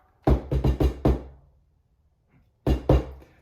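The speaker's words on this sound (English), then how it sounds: "Don't knock 18 times and like demand the door open." Rapid knocking on a door, a burst of five sharp raps followed after a pause by two more, close and loud in an otherwise quiet room.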